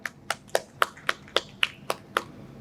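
At a Ramadan Sehri quiz show, a correct answer is met with eight crisp, evenly spaced claps or snaps, close and dry, with no voices.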